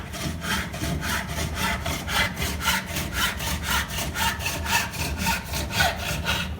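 A hand saw cuts through wood in steady rhythmic strokes, about three per second, each a close, clear rasping push and pull with no talk over it.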